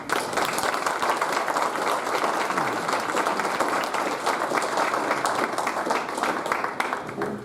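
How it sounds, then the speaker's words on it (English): Sustained audience applause at a school hall of fame luncheon, steady dense clapping from a crowd filling the room, loud and unbroken with faint voices underneath. "let's give a big round of applause for Tobin Green"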